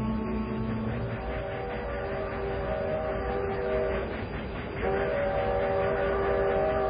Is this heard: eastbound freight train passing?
yes